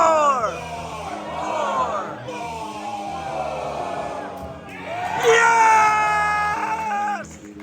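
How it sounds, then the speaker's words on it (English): Excited screaming and whooping rise out of a large cheering crowd at a toy-figure announcement, with shrill voices swelling loudest near the end over a dense, echoing hall. "that was me screaming in the background"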